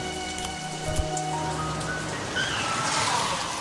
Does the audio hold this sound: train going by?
no